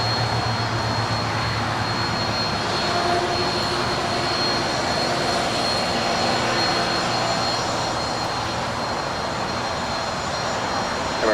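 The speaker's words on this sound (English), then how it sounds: "that is United Airlines Flight 515 coming in from JFK. It's a 757-200" A United Airlines Boeing 757-200 jet, arriving from JFK, comes in at LAX with a loud, continuous engine roar and a steady high whine that holds throughout.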